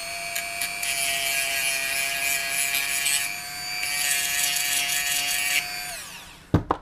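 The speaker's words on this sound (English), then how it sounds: "Right, so let's get this Dremel out of the way" A Dremel rotary tool whines at a high, steady pitch while smoothing the edge of a drone frame, with its tone shifting slightly under load before it spins down and stops, followed by a couple of clunks.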